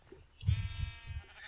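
Sheep bleat in Minecraft, one wavering, buzzy game bleat drawn out for about a second over low background rumble, moderately loud and alone.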